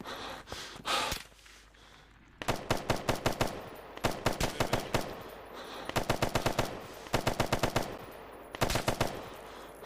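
Video game gunfire aimed at the player in a military commando game: repeated loud bursts of rapid automatic fire in several volleys, with short gaps between them and a few breathy sounds near the start.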